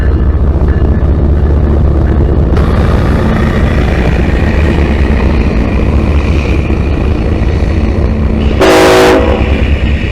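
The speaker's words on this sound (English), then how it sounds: "We have actually this train coming south into Rice Yard" A CSX freight train with locomotives 3149 and 3202 rumbles steadily past on the tracks, a loud continuous roar with a brief horn blast near the end.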